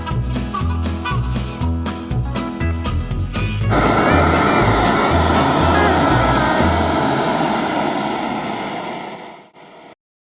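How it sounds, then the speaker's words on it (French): Savannah ultralight aircraft at an airfield open day preparing for takeoff, an engine and propeller drone that pulses unevenly at first, then swells into a steady loud roar before fading out. "Donc là, nous avons 2 ULM qui vont décoller."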